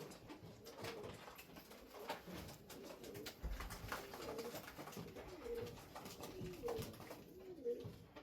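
Bango pigeons coo in repeated, rolling phrases close by, a steady chorus of soft throaty calls over a faint background hum.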